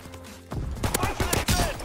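Torch variant of the P08 pistol firing in Call of Duty: WWII, a quick run of roughly six close, sharp shots after a short quiet lead-in, over game background sound.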